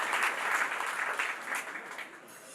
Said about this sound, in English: Well, I think he deserves another round of applause, ladies and gentlemen.